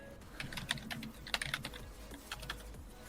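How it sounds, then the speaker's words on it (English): Rapid clicking of keys on a computer keyboard during an online game session, irregular bursts of close taps with a few sharper strokes, no voices. "Who's typing?"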